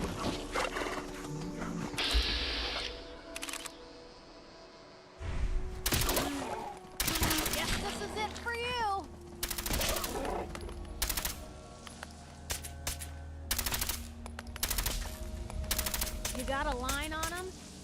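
Gunfire and combat sounds from Fallout 4 come in repeated bursts of shots with sharp impacts. They are mixed with game effects and creature noises, and players talk over the action.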